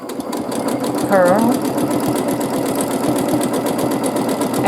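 A domestic sewing machine runs continuously at a fast, even stitching rhythm during free-motion quilting of a swirl pattern, with a person talking over the mechanical whir.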